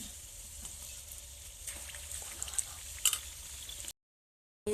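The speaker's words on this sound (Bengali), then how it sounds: "এই যে ভেজে নিচ্ছি" Potato sticks coated in gram flour frying in hot oil, giving a steady close sizzle with scattered pops and ticks before the sound cuts out abruptly.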